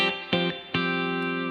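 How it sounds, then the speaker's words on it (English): A Telecaster electric guitar fitted with humbuckers, played through reverb: a few strummed chords ring out, each struck sharply and left to sustain with a washy tail, close and clear. "Let's put a little reverb here."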